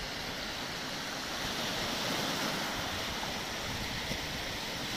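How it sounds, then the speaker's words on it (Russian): Black Sea surf at Anapa rolling onto the shore, a continuous broadband roar of breaking waves and wash with no pauses, close and steady throughout. "Волны накатывают на берег."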